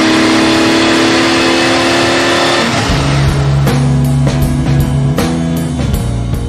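A Lamborghini Miura engine revs loudly and close by, with a steady drone that drops to a lower pitch partway through and then pulses through rhythmic throttle blips.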